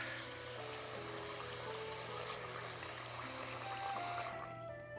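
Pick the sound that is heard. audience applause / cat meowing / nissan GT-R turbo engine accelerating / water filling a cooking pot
water filling a cooking pot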